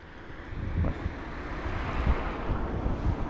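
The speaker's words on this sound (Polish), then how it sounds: "Trochę wieje." Wind gusts across the microphone at a northern French coastal spot, a steady low buffeting roar with a few sharper thumps, fairly loud and with no voices.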